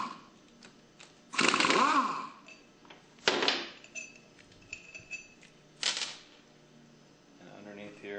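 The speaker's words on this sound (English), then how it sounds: "You'll need to take off the suction manifold by removing the 3 5mm bolts on" Bolts coming out of the suction manifold of a Hypro 9910-D403 diaphragm pump, with a few loud, close metallic clatters and scrapes as the wrench and parts are handled, and quieter taps between them.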